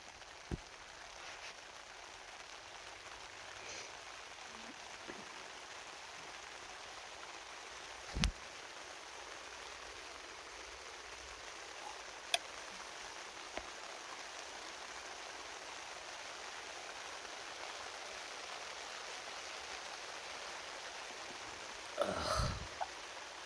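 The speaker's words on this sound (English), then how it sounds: "It's raining again." Rain falls at a campsite in the early morning as a steady, even hiss, with a few faint clicks and knocks standing out now and then; no voices are heard.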